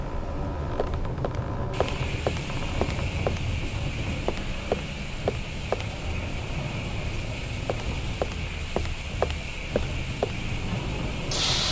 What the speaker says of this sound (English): Now the steam is coming out here instead of upstairs